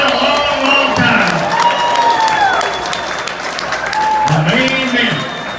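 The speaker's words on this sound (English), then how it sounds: "But give him a round of applause." A crowd at a drag racing event in Raleigh, North Carolina, breaks into sustained applause and cheering, while an announcer's voice carries over the clapping through a PA.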